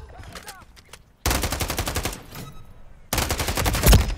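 Bursts of automatic gunfire from a Call of Duty MW3 match on the Rust map: a quieter opening, then two loud, dense rapid-fire volleys with a heavy blast near the end, over faint in-game radio chatter.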